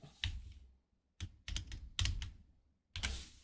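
Computer keyboard typing during work on a farming simulator shop, in four separate bursts of fast, close clicking keystrokes with short silent gaps between them, no voices.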